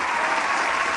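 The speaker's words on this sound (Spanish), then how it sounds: "Fuerte el aplauso, por favor." Dense applause from a large crowd at a political gathering, steady and loud across the whole brief moment with no pauses.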